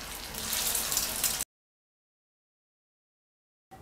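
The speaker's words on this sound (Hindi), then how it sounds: "इसी तरह से हम बाकी के कबाब भी फ्राई कर लेंगे।" Bottle gourd (lauki) kebabs frying in a pan, a close, steady hissing sizzle lasting about a second and a half before cutting to silence, with a brief return at the very end.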